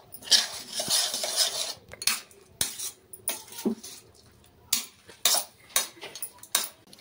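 Metal spoon scraping and clinking against a pan while hot curry leaves rice with lemon juice is mixed, a series of close, irregular clattering strokes with short pauses between them.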